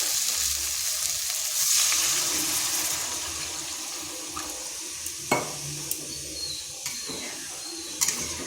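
Water pours into a sautéed gathi kochu (taro) curry in a pan, drawing a steady, fairly loud hiss of sizzling with a few sharp clinks and pops scattered over it.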